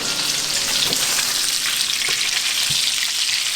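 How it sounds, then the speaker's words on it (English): Smoked sausage sizzling loudly in a hot pan, a dense continuous hiss with occasional soft scraping as it is stirred. "You hear the sizzling over here, so I'm coming over."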